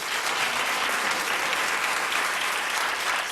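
Studio audience applause on a daytime TV talk show panel, steady and even, many people clapping together without pause, fairly loud and close.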